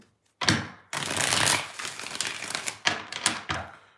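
Tarot cards are shuffled close by in several quick riffling bursts, each a crisp flutter of card edges followed by short taps as the deck is squared.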